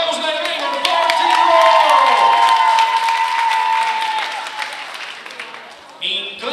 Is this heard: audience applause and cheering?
yes